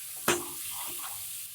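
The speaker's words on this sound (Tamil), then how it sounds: "ஆட் பண்ணி எல்லாத்தையும் நல்லா மிக்ஸ் பண்ணி விட்டுக்கலாம்" Potato and brinjal being stirred in a frying pan for a cauliflower pulao: one sharp utensil scrape against the pan, then a soft steady sizzle with faint stirring scuffs.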